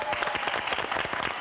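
Applause from a studio audience on a Taiwanese variety talk show, a dense, steady wash of many hands clapping close by for the whole short burst.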